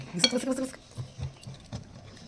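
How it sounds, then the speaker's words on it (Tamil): A whisk clinks and stirs through rabdi and a milk mixture in a bowl, with quick metallic taps at first and then softer swishing strokes, close and moderate, while someone talks. "ரெண்டும் நல்லா ஒன்று கொண்டு மிக்ஸ் ஆகிற மாதிரி விஸ்க் பண்ணிக்கோங்க."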